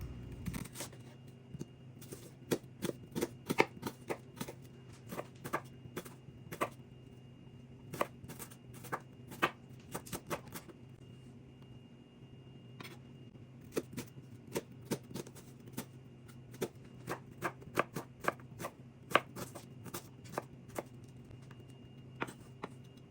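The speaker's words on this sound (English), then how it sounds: "Now let me cut the onion." A knife chops an onion on a cutting board, a long run of quiet, crisp close taps in irregular bursts with short pauses in between, heard alone in a home kitchen.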